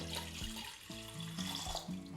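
Water runs steadily into a cooking pot, a continuous close splashing hiss with a faint rising tone as it fills.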